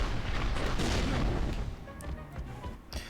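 Heavy weapons, the Blitz Cannon and Mega Turret in Ratchet & Clank: Going Commando, fire in a dense barrage of booms and blasts, then taper into scattered pops and impacts.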